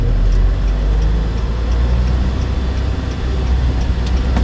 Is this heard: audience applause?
no